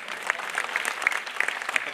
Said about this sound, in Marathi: टाळ्या वाजल्या बघा, असं असतं.